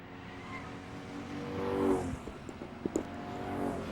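Street stock race cars roar around Mesa Marin Raceway, a steady engine drone that swells as cars pass close, with a brief louder burst midway.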